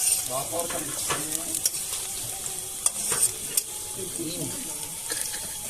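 Whole garlic cloves dropped into a hot pan of chicken curry at a night picnic, sizzling steadily with stirring scrapes and a few clicks, close by, with a voice talking faintly at times.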